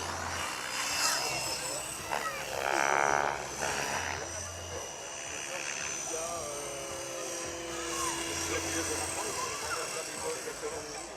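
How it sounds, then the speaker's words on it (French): A synthetic helicopter rotor drones steadily throughout with game-like engine noise and brief electronic bleeps layered over it. "Attention, vous n'avez jamais vu voler un hélicoptère."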